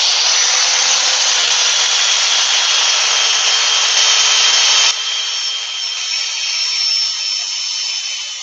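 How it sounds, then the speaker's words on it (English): Wood being sanded with 240-grit abrasive on a big lathe: a steady, loud broadband hiss of abrasive against spinning timber, continuous for about five seconds, then slightly softer and thinner to the end, with no talk. "Finish it off with a bit of 240 before we go and see the Yorkshire Git"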